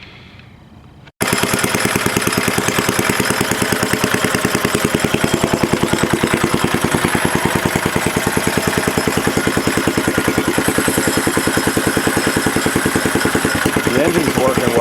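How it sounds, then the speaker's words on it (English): A small mini bike engine starts abruptly and runs steadily with a rapid putt-putt rhythm, loud and close, continuing for several seconds. "The engine's working well, just not the drivetrain."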